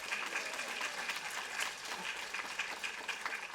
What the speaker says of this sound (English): give these guys another round of applause and take a little bow